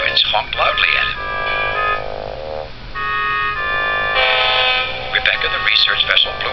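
Ferry boat horns and other harbour vessel horns in a children's animated harbour show sound in sustained tonal blasts, several overlapping and alternating, with voices talking between them.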